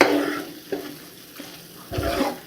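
Mushroom curry with coriander stirred in a pan, a soft sizzle underneath with a few spoon scrapes and stirring bursts, close by.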